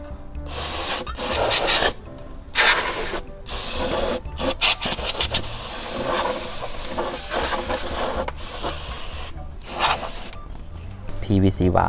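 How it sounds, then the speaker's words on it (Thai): Compressed air spray blasting at the PCV valve of a Ford Escape, with loud close hissing bursts of varying length, some brief and sputtering, others long and steady, broken by short silent gaps. "เป็นสเปรย์ลมเฉยๆนะครับเป่า p v วาลว"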